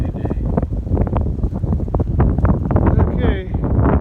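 Strong wind buffets the microphone outdoors on a warm, windy farm by a hay field, a loud continuous rumble with gusty bursts that runs throughout.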